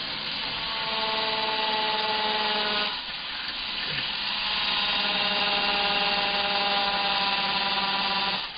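A cordless power drill with a dying battery whirs steadily at close range drilling a pilot hole, its motor pitch dipping briefly partway through before running on to the end.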